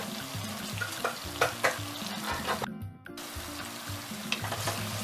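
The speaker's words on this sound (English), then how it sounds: "Whilst cooking the tomato puree with your onion" Tomato puree and onion fry in a pot for goat stew, giving a steady close sizzle with a few stirring scrapes and knocks and a brief dip partway through.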